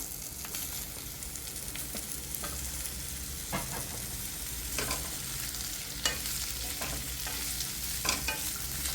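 Sliced raw papaya is stirred in a hot pan with a steady sizzle and the soft repeated scrape of a spoon, close and continuous, with no talking.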